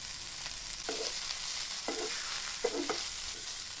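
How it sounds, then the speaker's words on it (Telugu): Long beans stir-fried with garlic and chili flakes in a pan, a steady close sizzle broken by several scraping stirs of the spatula. "ఈ వెల్లుల్లి బాగా ఫ్రై కావాలి."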